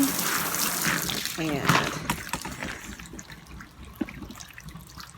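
Water pours and trickles over a paint-covered sweatshirt laid on a tarp, a steady splashing wash that runs under a voice speaking nearby.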